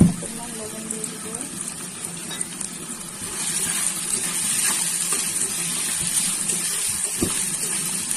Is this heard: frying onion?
yes